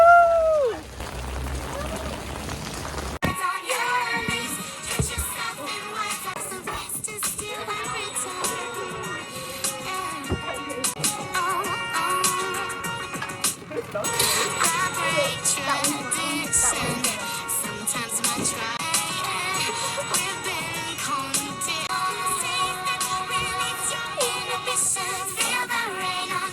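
Rain falls outdoors on Martha's Vineyard, a continuous patter and splash of drops on surfaces, with a sharp start after a brief quieter opening, then steady and fairly loud throughout.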